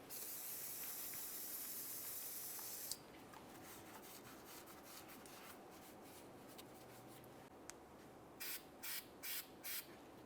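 Copper anti-seize compound sprayed onto the threads of a new lower outer tie rod on a 2007-2018 Jeep Wrangler: a steady, close hiss for about three seconds, followed by quieter rubbing and several short sputtering bursts near the end.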